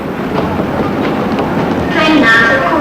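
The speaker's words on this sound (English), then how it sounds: "Train now arriving at platform 14 is the 9:50 for Grantham and King's Cross." Train rolling into the platform at York railway station, a steady rumble and rail noise with faint squealing brakes toward the end, heard close over the station's ambient bustle.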